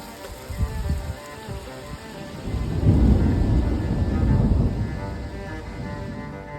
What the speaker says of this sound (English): It was a huge downpour of rain that caused flooding all over Quebec.